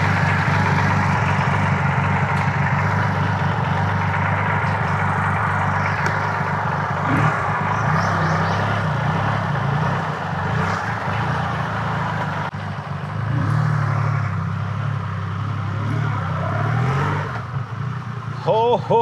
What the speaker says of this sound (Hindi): ये है 2500 सीसी का इंजन